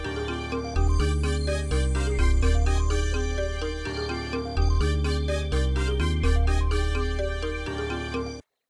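A trap beat melody played dry with no added layers or mixing: bright, bell-like synth notes repeat in a steady looping pattern over deep sustained bass tones that drop out briefly, loud and alone.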